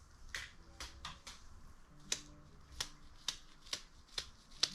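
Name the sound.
flicking spray paint off finger onto cardboard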